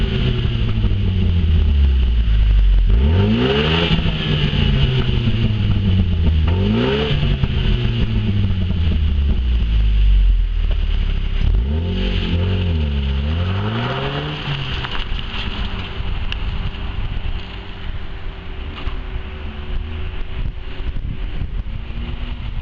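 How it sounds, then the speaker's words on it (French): A 280-horsepower Opel Astra OPC engine revs hard through several gears, pitch climbing and dropping in repeated rising sweeps, loud and close with wind buffeting the microphone. "Opel a particulièrement travaillé la sonorité du moteur de l'Astra"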